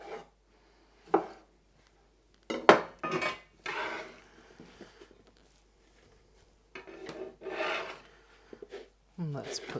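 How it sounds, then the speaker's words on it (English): Knife chopping through vegetables taken from a tub, quartering them on a board during kitchen meal prep, heard as irregular bursts of cutting and scraping with short pauses between, close and fairly clear, no talking. "So I'm just going to quarter them, just to help them break down when I cook them."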